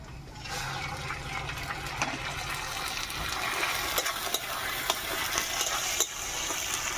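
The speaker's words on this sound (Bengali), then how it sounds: "পেঁয়াজটা আমার ভাজা ভাজা হয়ে গেছে, আমি লোটে মাছটা দিয়ে দেবো।" Loach fish and browned onions sizzle steadily in a hot pan, a dense continuous frying hiss with occasional stirring scrapes and crackles, close and fairly loud throughout.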